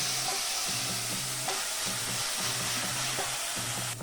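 Instant dosa batter fries in a hot pan with a steady, close sizzle under a repeating, rhythmic stirring or scraping pattern. No voices are heard.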